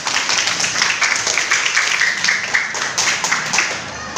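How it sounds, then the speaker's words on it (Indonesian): A crowd at an indoor session claps together, a dense, continuous patter of applause that holds steady throughout at moderate loudness. "Ya, tepuk tangan dulu semuanya."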